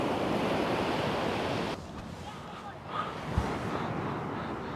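Surf washing onto the beach at Southbourne on an evening shore-fishing session, a steady broadband wash with wind noise, dropping slightly in level partway through.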